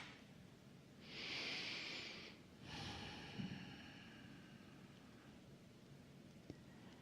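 Slow meditative breath, a long airy inhale followed after a short gap by a softer, drawn-out exhale, close and fairly quiet against a faint background hiss, no talking.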